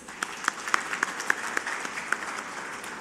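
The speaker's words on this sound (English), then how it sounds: "Let's invite him with a huge round of applause." An audience at an institute of management studies claps to welcome Shri Ashish Shelar, a moderate spread of hands with a few distinct sharp claps standing out, gradually thinning.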